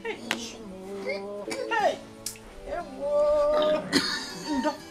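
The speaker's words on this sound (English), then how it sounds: "Can you hear him cough?" A man coughs several times at close range indoors, the short harsh bursts mixed with someone speaking and other voices.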